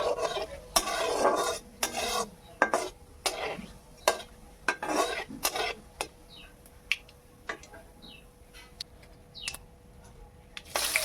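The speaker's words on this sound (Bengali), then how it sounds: "ফোড়নটাকে আমি ভালো করে ঘি আর তেলের মধ্যে ভেজে নেব" Whole cumin seeds frying in ghee and oil for a paneer pulao, with a soft crackling sizzle under repeated sharp clicks and scrapes of a spoon stirring against the pan, close and fairly quiet.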